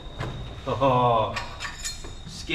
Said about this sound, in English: The old spanner falling down in the...